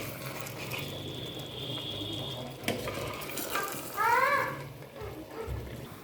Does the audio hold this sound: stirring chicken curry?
yes